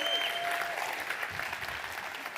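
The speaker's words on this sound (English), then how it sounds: "keep applauding, keep applauding" An audience claps continuously, a dense wash of applause that fades slightly toward the end, with no voices standing out.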